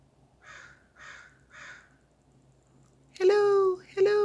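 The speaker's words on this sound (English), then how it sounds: "Hi, my beautiful bird." A pet bird gives three evenly spaced harsh, raspy calls at moderate volume, then two much louder, sustained voice-like cries close by.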